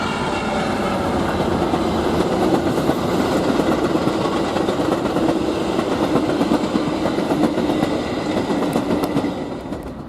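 A Union Pacific local freight train running from Proviso to Des Plaines, Illinois rolls past nearby, a loud steady rumble with clickety-clack of wheels over rail joints, easing slightly at the end.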